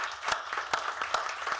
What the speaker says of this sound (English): Let's give an applause to the President, please,